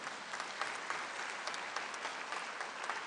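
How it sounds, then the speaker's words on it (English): Steady applause from a party conference audience, dense and sustained at an even level throughout with no voices over it. "that deserves a clap."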